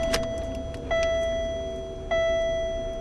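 A 1996 Buick Park Avenue switched on, giving two clear steady electronic chimes or warning tones with sharp onsets, each held and slowly fading, over a low cabin hum and faint ticking.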